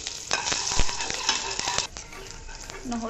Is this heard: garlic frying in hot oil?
yes